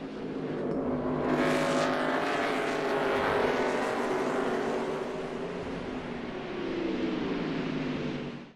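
NASCAR race cars at speed on the Sonoma Raceway road course in wine country: a loud, continuous roar of several engines blending together, rising and swelling slightly as cars pass, with no voices.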